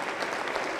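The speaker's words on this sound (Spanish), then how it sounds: "Fuerte, fuerte las palmas para Cristo." Pentecostal church congregation clapping for Jesus during a service in Cajamarca, Peru, dense continuous applause from many hands close by.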